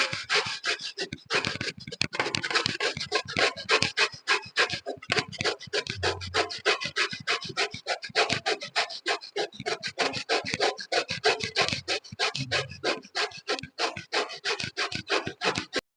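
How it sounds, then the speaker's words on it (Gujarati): Bottle gourd rubbed hard against a hand grater, making a rapid, rhythmic rasping scratch of quick back-and-forth strokes, close and loud, going on without pause and with no talk over it. "હવે આપણે દૂધીને છીણી લઈશું."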